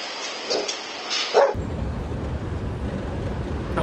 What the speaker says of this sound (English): My subscribers caught a delivery driver hissing at their dog.